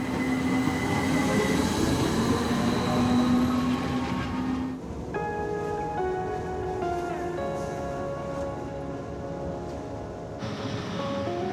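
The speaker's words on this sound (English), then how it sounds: "our mountain climbing train arrives at one of Switzerland's most famous towns" A mountain climbing train travelling through the Swiss Alps rumbles steadily, with a drawn squeal of wheels early on, then its drone shifts into layered whining tones as it runs on.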